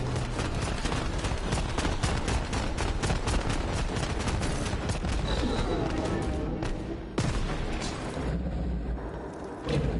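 Dense, continuous shotgun fire from Borderlands 3 during a boss fight, loud blasts stacking in rapid succession with busy game effects behind them and a brief drop near the end.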